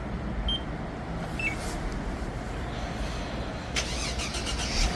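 A SsangYong Chairman W, started with a remote starter, cranks and catches into a steady idle, a continuous close engine rumble with a few faint beeps near the start and no talking.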